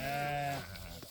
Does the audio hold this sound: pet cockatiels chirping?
no